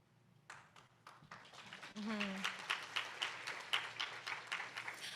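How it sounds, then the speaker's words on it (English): Scattered claps at a program showcase build into fuller applause after a brief voice at the start, moderately close and fairly quiet, with distinct hand claps standing out in the crowd. "I'll pass the applause on to her."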